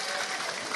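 An audience at a religious lecture gathering breaks into a brief burst of dense, steady clapping, close and loud, with a voice faintly underneath.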